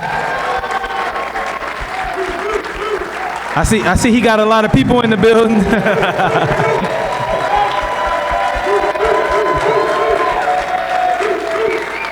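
A hall full of people at a sports hall of fame induction claps and cheers for a coach being honored, sustained applause swelling louder with whoops while someone talks over the crowd.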